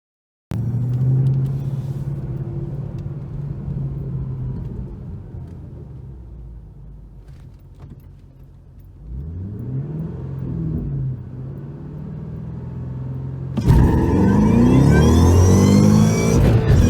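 A stock Shelby GT500 accelerates hard through the gears, its engine roaring and rising in pitch, dropping briefly at a shift, then swelling again close and loud, with no talking over it.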